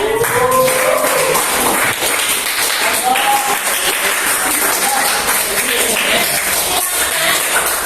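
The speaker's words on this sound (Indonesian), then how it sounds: "Beri tepuk tangan untuk kelompok 3." A classroom group claps in sustained applause, dense and even, while a teacher's voice speaks over it.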